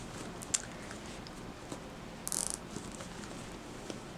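Zip ties ratcheting tight on a reborn doll during assembly, a quick burst of small plastic clicks near the middle amid faint handling noise, close and quiet.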